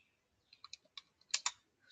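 Light, quick keystrokes tap on a computer keyboard, a dozen or so clicks in an uneven rhythm, close and fairly quiet.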